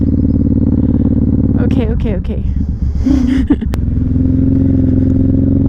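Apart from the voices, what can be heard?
Suzuki M109R motorcycle engine while riding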